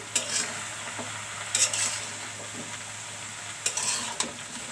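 Bottle gourd curry being stirred in a pan, with a soft steady sizzle and several distinct scraping strokes of a spatula, close and alone.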